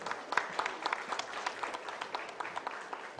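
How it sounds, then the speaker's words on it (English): An audience at a foundation day celebration applauds steadily, with dense overlapping claps holding at a moderate level throughout. "A round of applause, ladies and gentlemen."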